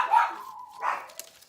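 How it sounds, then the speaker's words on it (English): Dogs at home giving a couple of short, close barks with whiny, yelping tails, two distinct bursts separated by a brief pause, loud and alone with no voices over them. "Oh, these dogs."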